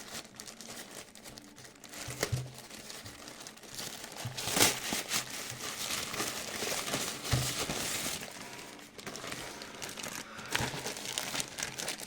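Packaging crinkles and rustles steadily as an AliExpress parcel is unpacked, with close crackling plastic and occasional sharper tearing bursts, no talking.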